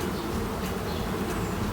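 Honeybees buzzing steadily in an open hive during an inspection of frames being built out and filled with syrup, a dense, continuous close drone with no voices.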